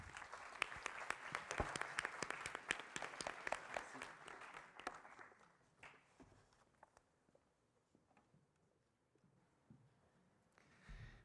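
An audience claps for a speaker on stage, a dense burst of applause for about five seconds that thins into scattered claps and fades, with a brief swell near the end.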